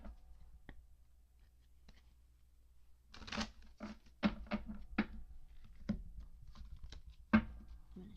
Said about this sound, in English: I need to shuffle all my decks real quick.